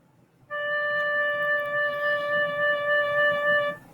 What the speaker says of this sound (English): Okay, so you're hearing a flute play it.